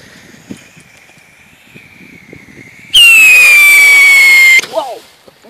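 Coloured whistling firework rockets set off outdoors: a loud, piercing whistle that slowly falls in pitch for about two seconds, then cuts off, with quieter crackles before and after and faint voices in the background.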